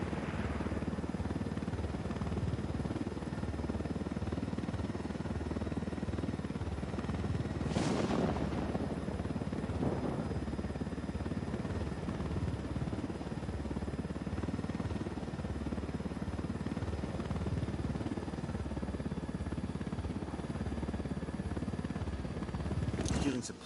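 Supply helicopters in the video game Ghost Recon Wildlands, heard as a steady, distant rotor drone that runs unbroken throughout, with a couple of brief louder bursts over it.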